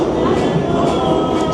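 An NYC subway train rolling between Astoria and Times Square, heard from inside the car as a steady, loud rumble and rail noise that fills the whole moment without break.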